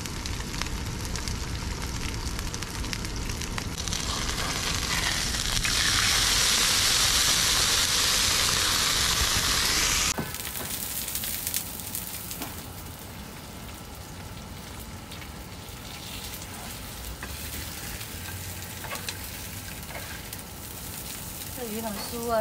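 Deep-sea fish fries on an iron griddle, a broad crackling sizzle that hisses loudly for the first ten seconds and then settles into a softer, steady spitting sizzle.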